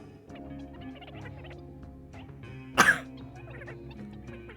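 A single person coughs once, loud and close, a short harsh burst with a quick second pulse, set against a quiet background of steady low hum and faint clicks.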